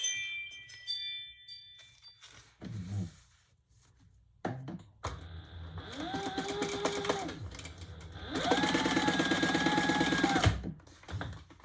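A sewing machine top-stitches a fabric pouch. Its motor whirs in two steady runs of close, even stitching, each starting after a few soft handling clicks and taps.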